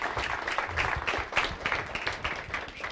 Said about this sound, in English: How about a round of applause for Jeremy?